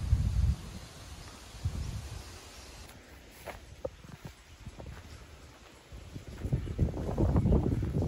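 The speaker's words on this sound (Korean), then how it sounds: "바람 소리 들리실랑가 모르겠습니다." Outdoor wind on a holiday morning in the Gimcheon countryside near walnut trees, gusting and rustling with low buffeting against the microphone, strongest at the start and end, with no talk.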